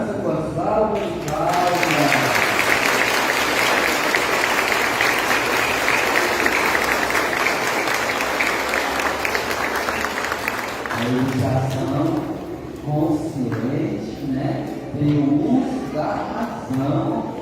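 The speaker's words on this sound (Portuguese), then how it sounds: "E vamos saudar nossas crianças com a salva de palmas." A church congregation at a First Communion Mass claps for the children in a full, steady burst of applause lasting about ten seconds, with talking voices heard before and after it.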